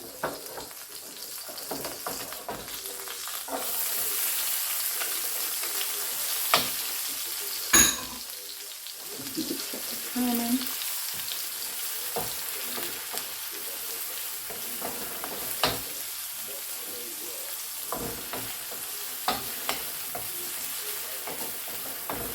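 Pepper fries in about two teaspoons of oil in a wok for king prawn egg fried rice. A soft, steady sizzle runs throughout, broken by occasional scrapes and clatters of stirring.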